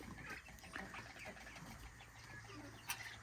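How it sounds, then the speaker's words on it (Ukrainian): Quiet clucking and peeping from a small group of young Amrock and Bielefelder chickens nearby, soft and continuous, with faint background noise. "Наші найперші курчата."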